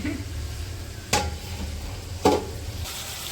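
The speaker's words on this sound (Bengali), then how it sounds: "সবজিগুলো তো কষাই নিচ্ছি আমি" Vegetables sautéing in a pan at home, a low steady frying hiss with two sharp clanks of a utensil against the pan, a voice murmuring faintly beneath.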